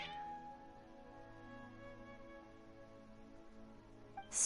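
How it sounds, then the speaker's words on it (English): Cats in Genshin Impact let out drawn-out, worked-up meows and yowls, faint and continuous over a soft game background, with no talking. "Your cats seem pretty worked up."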